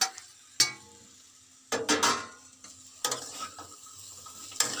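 Coconut filling cooked with jaggery being stirred in a pan, heard as several separate scraping, sizzling bursts with quiet gaps between them, close by and alone.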